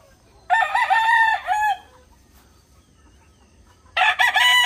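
Roosters crow loudly and close by at a chicken farm with many coops in Amadeo, Cavite. There are two long crows separated by a short quiet gap.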